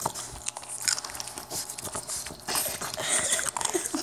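A puppy crunches on Captain Crunch cereal, giving dense, rapid crackling bites and grinding close by, steady across the whole stretch with no talking.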